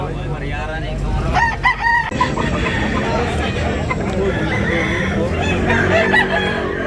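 Roosters crow repeatedly at a busy Tabunok, Cebu chicken market, several calls overlapping amid steady crowd babble and nearby talk.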